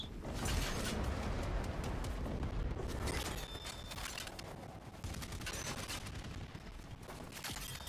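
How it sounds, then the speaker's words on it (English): Sobek shotgun blasts in the shooter Warframe amid dense, loud combat gunfire and mechanical clatter, with repeated sharp shots and a short lull before the barrage resumes. "That's a Sobek if I've ever heard it."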